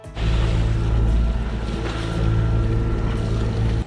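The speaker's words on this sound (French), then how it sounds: "Bon, j'allume le moteur bâbord." A sailboat's port engine running at sea during a Mozambique Channel crossing, a loud continuous low drone with wind noise, no talking.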